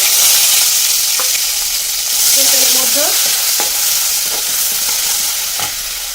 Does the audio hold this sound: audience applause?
no